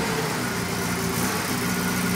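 A car engine, just started with a little choke, runs at a steady idle with an even, unbroken rumble close by and no talking.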